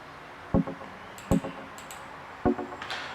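Deep house arpeggio from a Nexus synth in FL Studio, cutoff lowered and drenched in heavy delay and reverb: a few quiet, soft plucked notes, each trailed by fading echo repeats, with nothing else playing.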